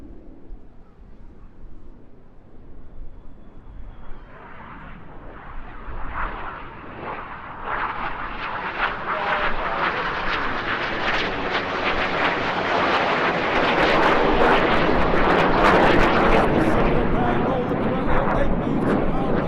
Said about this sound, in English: Each aircraft will perform a barrel roll, passing in the middle 30 meters wingtip to wingtip 100 feet before rolling inverted to leave the display area